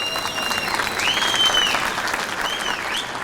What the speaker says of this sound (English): I request all of you to welcome him with a big applause.